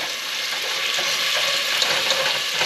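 Chicken adobo in a hot pan hisses loudly as marinade is poured in to deglaze the browned bits, giving a steady, close, dense sizzle that swells slightly while the pan is scraped.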